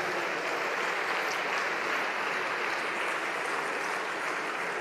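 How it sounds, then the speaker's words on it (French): Steady applause for the women's Cesta Punta winners at a podium ceremony, a continuous, even wash of clapping heard at a moderate distance with no voices over it. "On peut encore une fois les applaudir."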